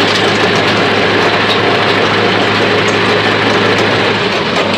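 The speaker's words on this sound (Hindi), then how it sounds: "बहुत जल्दी हो रही बहुत इस वजह ट्रैक्टर तेज चलाना पड़ रहा।" A tractor engine runs steadily in a farm field, driven fast, with a loud, constant low rumble and broad noise that holds without a break.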